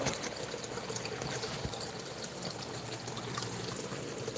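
Creek water filtered through grass and tree roots flows along in a soft, continuous trickling wash, close by and fairly quiet, with no voices.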